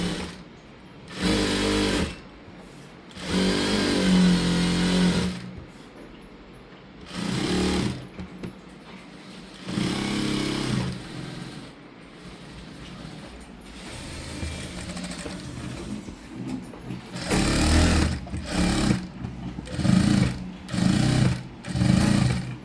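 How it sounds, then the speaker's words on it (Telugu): A sewing machine stitches fabric for a dress in loud, steady buzzing runs of a few seconds each, separated by short stops, with the last stretch broken into quick bursts. "ఇప్పుడు ఇటు సైడ్ కూడా సేమ్ అదే విధంగా స్టిచ్ చేసుకోవాలి."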